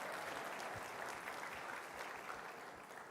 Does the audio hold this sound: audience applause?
yes